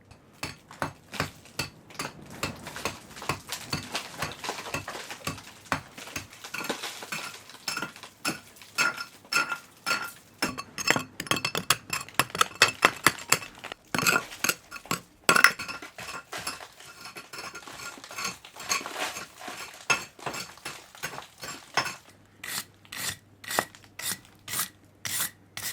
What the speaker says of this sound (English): So the aim with a prep is to get all the old plaster off, rake between the joints.